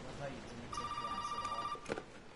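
A telephone rings inside the horror video game Resident Evil 7, one steady electronic ring lasting about a second, moderately loud, with voices talking over the surrounding game audio.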